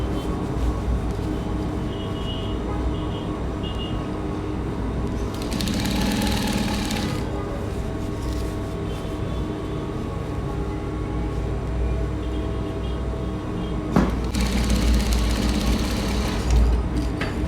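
A sewing machine runs steadily, stitching a suit sleeve onto the bodice with a continuous mechanical whir and rattle, pausing briefly with soft fabric handling sounds in between.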